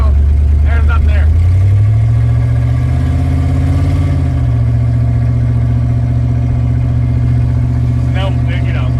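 A 1955 Buick V8 with straight exhaust idles loudly and close, a deep steady rumble that swells in a rev around the middle before settling back to idle, with brief voices at the start and end.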